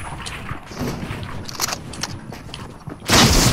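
Shotgun fire in a multiplayer shooter game with a lever-action shotgun, heard as scattered sharp bangs under game noise, with a loud close blast near the end.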